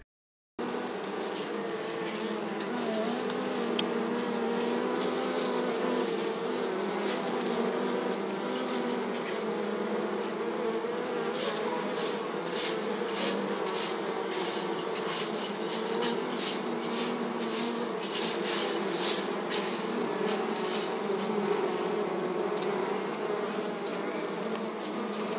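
Honeybees buzz steadily and densely around a hive holding a young split colony from last year, a continuous close swarm drone with faint rubbing and crackling, no voices.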